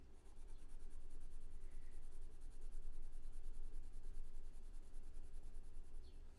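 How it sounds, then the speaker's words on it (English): Arteza colored pencil laying down color on paper, a steady soft scratchy rubbing that runs continuously and close up, with no talk. "The Arteza pencil is laying down really nice."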